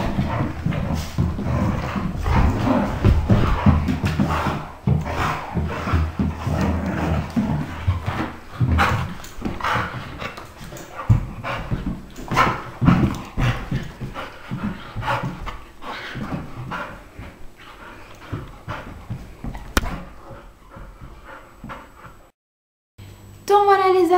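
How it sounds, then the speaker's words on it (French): Sibling dogs playing together, with panting, scrabbling paws and bursts of movement close by, along with occasional murmured voices. "maintenant que les chiens ont bien terminé de jouer"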